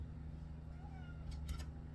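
A cat gives a single short, faint meow over a steady low hum, with brief rustling near the end.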